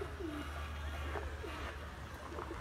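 Pigeons coo softly at a loft where birds are kept, a few low, rounded calls repeating over a steady low outdoor rumble, with no talking.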